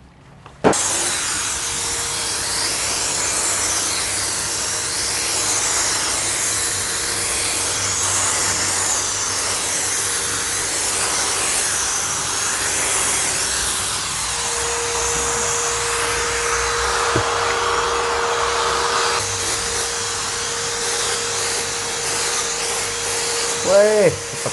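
A Black and Decker HVLP400 paint sprayer starts up and runs with a loud, steady blowing whine for over twenty seconds, its pitch shifting slightly midway, ending with a few brief clunks.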